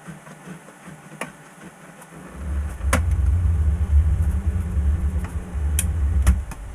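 The motor of a Bambu X1C 3D printer running very hot starts after a quiet moment and becomes a loud, steady low rumble with a few faint clicks on top.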